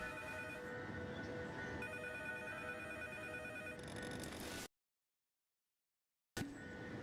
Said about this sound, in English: Got a call coming in here.